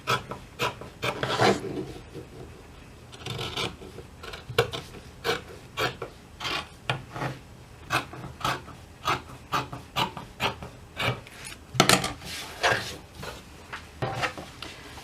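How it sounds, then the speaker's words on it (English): Excess fabric being trimmed off a sewn Bible carry pouch with scissors, a run of repeated short snipping and rasping cuts, close and fairly loud, with no talking. "So now I'm going to trim off some of that excess fabric."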